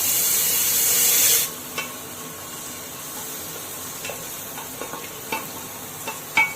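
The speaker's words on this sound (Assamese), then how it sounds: "কাজুখিনি এটা ৰঙচুৱা বৰণ নাহালৈকে লৰাই থাকিব লাগিব" A loud hiss of sizzling opens, then settles into soft frying with scattered scrapes and taps of a utensil stirring cashews in a pan.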